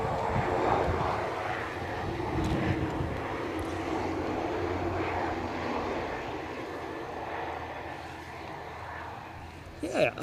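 An airliner lands at Edinburgh Airport in gusty wind, a steady distant engine roar that holds for several seconds and fades slightly, with people talking over it.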